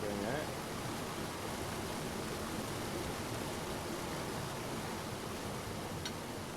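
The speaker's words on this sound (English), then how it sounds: "The audio does get a little loud during the waterfalls." Waterfalls in the cozy video game Teddy's Haven pour as a steady, fairly loud broadband rush of falling water that runs continuously through the whole clip, with a faint chime near the end.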